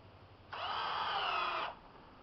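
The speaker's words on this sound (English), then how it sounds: "Then you're going to put two screws in the bottom of the jig." A power drill drives a screw into the bottom of a wooden jig in one short, steady whirring burst of about a second, close by and alone against a quiet room.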